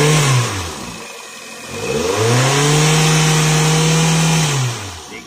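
A Kia Picanto engine revs during an air-conditioning hose replacement and refrigerant refill. It is loud and close, with a short rev that drops off, a brief lull, then a longer held rev at steady pitch that winds back down.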